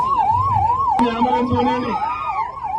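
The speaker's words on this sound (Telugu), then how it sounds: "అంబులెన్స్" An ambulance siren wails in a rapid up-and-down electronic pattern as it passes a Congress party protest rally, loud and close, with a brief horn blast partway through.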